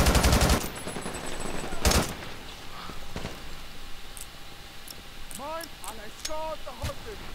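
Gunfire in the Brink video game on PC, with a loud close burst of rapid automatic fire at the start followed by scattered shots and whizzing effects in a busy combat mix.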